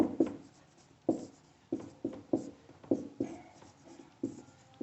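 A pen writes a definition by hand during a Class 9 maths lesson on lines and angles, giving about ten close, rhythmic scratchy strokes, each one a sharp start that fades quickly.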